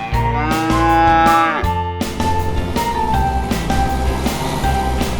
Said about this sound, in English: All the cows are coming back to eat something and drink something.